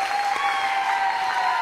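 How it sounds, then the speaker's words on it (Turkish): A studio audience on the Turkish TV game show Çarkıfelek claps in sustained, even applause that fills the room, with no talking over it. "Alkışlar devam ediyor."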